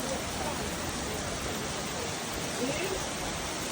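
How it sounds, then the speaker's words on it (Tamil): Heavy rain pouring down in an unexpected downpour, a dense, unbroken roar of falling water that holds steady and loud throughout. "அப்படி தான் மழை கொட்டுது."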